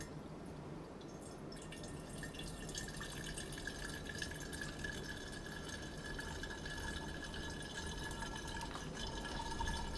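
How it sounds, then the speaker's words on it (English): Herbal tincture poured over a cloth strainer into a jar, giving a soft, steady trickle and drip of liquid that runs continuously and close, with a faint background hiss. "To strain the tincture, you simply pour it over this cloth"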